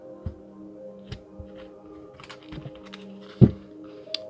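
A deck of playing cards being cut by hand, a few soft flicks and thumps of card stock spaced through a quiet room, with one sharper, louder slap near the end.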